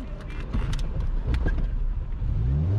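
A car engine catches after a push start and rumbles and revs up nearby, low and throaty, rising in pitch toward the end.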